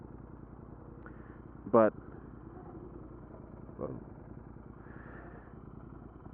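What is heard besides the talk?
motorcycle exhaust during ride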